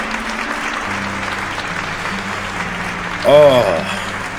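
Steady crowd applause over the closing credits of the video game My Liege, with a voice speaking briefly over it near the end.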